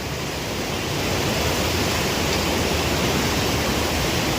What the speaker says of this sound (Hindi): तो ये तो अलकनंदा नदी है